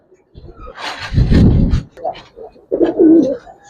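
Giribaz pigeons coo in a few soft, low throaty bursts close by, mixed with someone talking over them.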